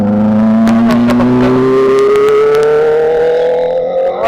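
A Kawasaki Z900 superbike on the road near Lonavala revs hard as it passes, a loud, close engine howl rising steadily in pitch over a few seconds, with rapid gear-shift blips and a lingering exhaust drone.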